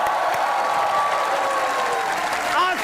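A studio audience at a Lahore talk show applauds in a dense, even wash of clapping with a bit of cheering, a brief tone sweeping under it near the end.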